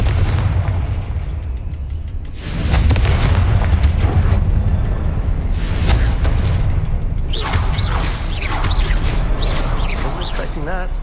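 Confringo fire spell in Hogwarts Legacy, loud booming blasts and whooshing bursts that sustain over several seconds with heavy low rumble.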